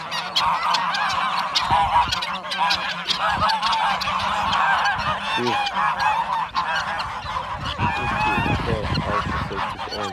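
A flock of geese on a farm honks continuously and loudly at close range, many overlapping calls forming a dense, restless chorus without pause.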